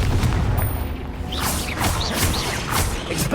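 A Confringo blast spell detonating in Hogwarts Legacy: a deep booming explosion with mechanical creaks and sharp crackling bursts, loud and close, with no talking.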